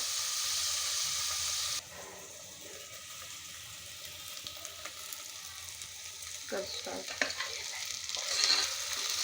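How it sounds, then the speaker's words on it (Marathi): Onions sautéing until brown in a pan for Khandeshi thooli: a loud, hissing sizzle for the first two seconds drops to a quieter crackle, with scattered clinks and scrapes of stirring toward the end. "आता आपण हे कांदे ब्राऊन होईपर्यंत छानपैकी परतवून घेणार आहोत"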